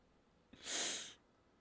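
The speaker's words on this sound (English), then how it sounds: "I was just having a bad cough." A single short, breathy burst, like a muffled cough or snort, rising and fading over about half a second in a quiet room.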